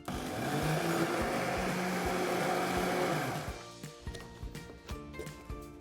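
Mixer grinder blending dosa batter with curd, salt and water, whirring loudly and steadily for about three seconds before switching off, followed by a few quieter knocks and clatters.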